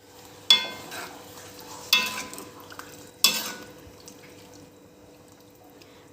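Dried fish curry with mango stirred in a pot, Kerala style: three distinct scraping strokes against the pot, each followed by a soft, wet trailing sound, with a low steady hum underneath and no voices.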